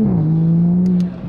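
A Toyota A90 Supra with a manual gearbox holds a steady, loud engine drone close by, pitch dipping slightly before settling, then easing off near the end.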